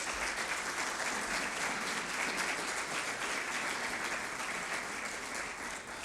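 A church congregation applauds during a sermon, sustained and fairly even for about six seconds, a dense wash of many hands clapping with no clear pauses.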